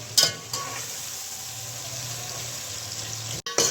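Onions fry in a pan for a desi-style mixed vegetable curry, giving a steady close sizzle throughout with a few brief clinks at the start and near the end, and no talking.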